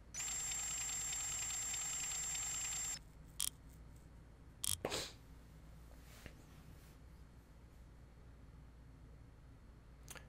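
Video game Wrench plays a bolt-breaking Easter egg sound: a loud, steady buzzing tone for about three seconds, then a few sharp clicks and a metallic snap over a quiet background.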